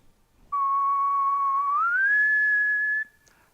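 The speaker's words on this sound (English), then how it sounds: "So when I whistle, you can see it's a very pure pitch, just one line" A person whistles one steady, pure tone for about two and a half seconds, rising smoothly to a higher pitch partway through and holding it, close and alone.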